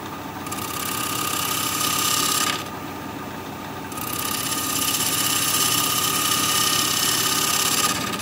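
A wood lathe turns at 1,000 RPM while a 5/8 inch bowl gouge cuts a bowl tenon. It makes a continuous close hiss and whir of the tool shearing the spinning wood, which briefly drops back where the cut pauses and then resumes.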